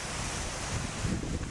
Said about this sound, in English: You got a waterfall over here, a little stream.